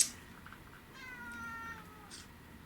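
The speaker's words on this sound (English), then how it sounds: "that sounded like the cat was right beside me" A cat meows once, fairly faint and slightly distant, in a quiet room during a home paranormal investigation.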